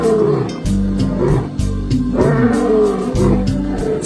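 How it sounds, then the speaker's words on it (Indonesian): A lion roars loudly and close up in a long, rough, sustained bellow that swells and pulses, with no gaps of silence. "suara aungannya yang sangat nyaring dan keras. Dialah singa, si raja hutan satu-satunya"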